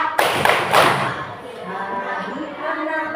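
A group of people at a school coming-of-age lesson claps their hands in rhythm, a few sharp claps opening, then fading into room noise with voices around.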